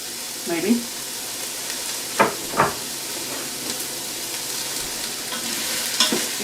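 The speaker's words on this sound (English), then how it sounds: "Give this a good stir in here." Onions and garlic sizzle steadily in a pressure cooker while being stirred, with close scraping spoon strokes rising over the constant frying hiss.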